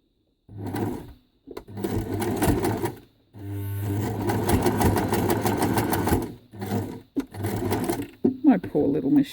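A sewing machine stitches scrap fabric for a rope flower in several loud rattling bursts of rapid needle strokes, separated by short pauses, with a voice talking at the end.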